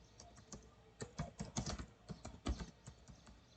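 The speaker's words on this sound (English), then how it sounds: "Just a few lines of information I'm going to type it" Keys clatter on a computer keyboard in an irregular flurry of quick taps, some louder than others, heard close and quiet with no voices.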